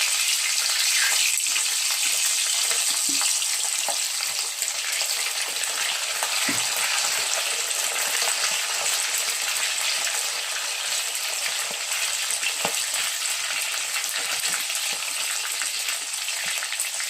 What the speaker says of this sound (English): I'm going to fry the meat till it's golden brown.